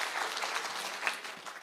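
Audience clapping in honor at a security community meeting in Nyamira, a steady broadband patter of many hands that holds for the whole moment with no talk over it.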